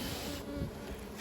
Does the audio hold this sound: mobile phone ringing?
no